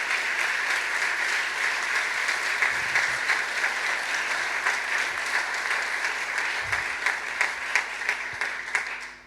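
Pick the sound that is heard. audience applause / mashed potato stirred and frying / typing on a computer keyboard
audience applause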